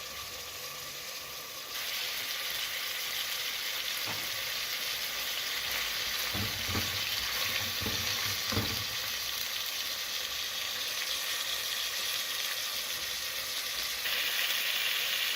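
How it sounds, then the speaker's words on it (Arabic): Chicken sizzles steadily while frying in a pot for maqluba, with several soft scraping stirs from a spoon near the middle, and the hiss stays loud and continuous throughout. "ونبدأ الآن بتقليب الدجاجة حتى تتحمر معنا شوي"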